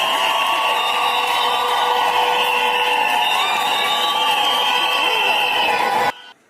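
A large church crowd gathered for a bishop cheers and applauds in a steady, dense wash of noise with tonal whoops running throughout before cutting off abruptly near the end.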